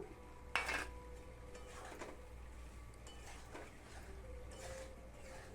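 Pointed gourd and potato pieces drop into a pan with a sharp clatter, followed by sparse scraping and clinking of a utensil against metal at low volume.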